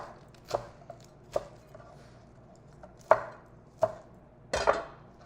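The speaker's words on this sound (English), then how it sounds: "now wash your lettuce. So roughly chop them." Lettuce being roughly chopped with a knife on a chopping board for a salad, a handful of separate crisp knife strikes spaced irregularly over a few seconds, close and moderately quiet, with no voices.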